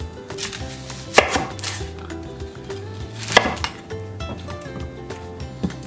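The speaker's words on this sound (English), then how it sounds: "Onion, I'm gonna cut it into 4 pieces" A knife chops an onion into pieces on a board, with a few sharp, loud thuds spaced about two seconds apart and lighter knocks and rustling in between, no voices.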